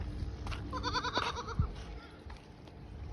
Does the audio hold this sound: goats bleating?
yes